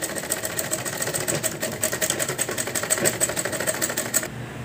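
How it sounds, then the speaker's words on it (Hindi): A sewing machine runs steadily, stitching the side seams of a handmade cloth bag, a close, rapid mechanical chatter continuous for several seconds before stopping abruptly. "तो देखिए हमने हमारे दोनों साइड पे सिलाई लगा ली है।"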